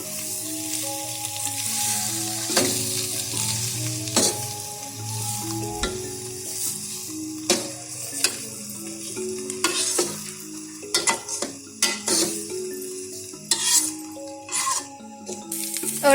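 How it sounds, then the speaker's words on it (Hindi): Grated pumpkin and semolina for pumpkin halwa fry in a pan, a continuous sizzle broken by repeated sharp clacks and scrapes of a spoon against the metal pan, growing busier and more rhythmic toward the end. "अब हम इसमें हलवा कद्दू ऐड करेंगे और इसको 5 मिनट के लिए फ्राई करें"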